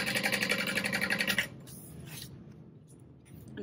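A sewing machine stitches the bottom seam of a Fortuna backpack, running in a loud rapid mechanical rhythm for about a second and a half before stopping, followed by quieter handling sounds.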